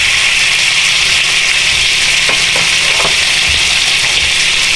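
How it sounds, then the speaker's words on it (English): A filet mignon sears in a hot pan, giving a loud, steady sizzle that fills the sound throughout, with a few faint scrapes as the steak is turned over, and no talk. "I'm going to turn this over,"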